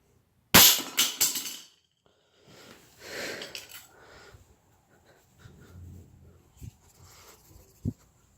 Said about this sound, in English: you accidentally drop your knife on the rock